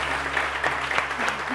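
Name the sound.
studio audience applause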